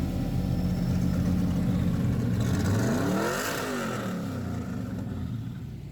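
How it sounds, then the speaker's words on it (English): A car engine drones loud and close at a Hot Wheels Legends Tour car show. The engine holds a steady roar while its pitch rises and falls, as if revving or moving past nearby. "This is my buddy Ron Beaver's car."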